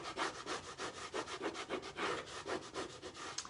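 Steady back-and-forth rubbing on a wooden surface as a rub-on transfer is pressed down section by section, a close, rhythmic scratchy friction repeating about every quarter second with no talking.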